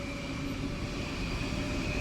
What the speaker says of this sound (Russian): Және поезд.